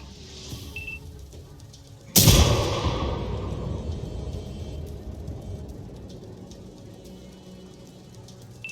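An artillery killing shot in the World of Tanks video game, fired from an M-55 self-propelled gun, lands as one sudden loud blast. A long rumbling crackle follows and slowly fades, with no talking.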